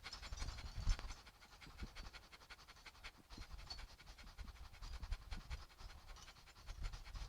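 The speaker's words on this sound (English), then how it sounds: "And start the breath of fire." Rapid yoga breath of fire: quick, rhythmic, forceful breaths through the nose, panting steadily and close for several seconds with no talking.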